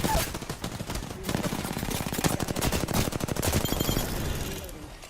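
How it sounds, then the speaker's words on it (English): Apex Legends gunfire: a loud, continuous machine-gun stream of rapid shots at close range lasting several seconds, with faint voice chat beneath. "I'm taking shots."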